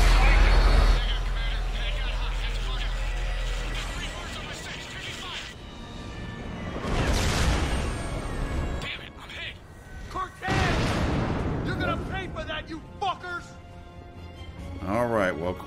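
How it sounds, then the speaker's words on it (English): Scattered gunshots and booming blasts from the video game Mass Effect 3 sound through a chaotic battle scene, mixed with heavy ambient rumble and irregular bursts, largely under ongoing character dialogue. "Still hear gunshots."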